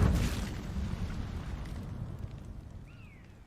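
Incendio fire spell cast in the Hogwarts Legacy video game, a loud close whooshing burst at the start that fades into a rumbling, crackling tail over a few seconds, no talking.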